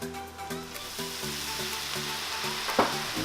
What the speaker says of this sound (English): And there's our sizzle.